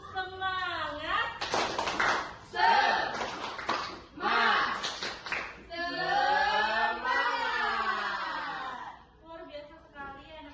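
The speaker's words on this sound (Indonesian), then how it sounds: "Tepuk semangat." A class of schoolchildren performs the rhythmic 'tepuk semangat' clapping chant, sharp bursts of clapping alternating with loud chanted voices in a fast, patterned rhythm filling the room.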